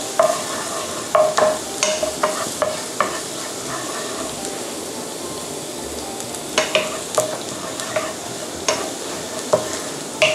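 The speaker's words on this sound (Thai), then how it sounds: "ตั้งกระทะนะคะไฟกลางใส่ไปเลยกระเทียมเจียวให้หอมเหลืองนะคะ" Garlic sizzles in a pan over medium heat, crackling steadily with repeated sharp scrapes and taps of a spatula stirring it.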